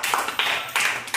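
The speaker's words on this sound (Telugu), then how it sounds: "Very good, claps." Children in a classroom clap in a few quick bursts during a letter identification game, brisk close hand claps with brief pauses between.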